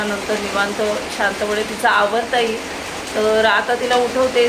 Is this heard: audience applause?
no